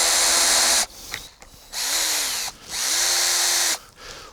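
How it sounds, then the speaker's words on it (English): A cordless power drill drives screws into a wooden raised planter, three loud close bursts of high whirring, each winding down with a falling pitch as the screw seats, separated by short quiet gaps. "And we're going to stick these screws in."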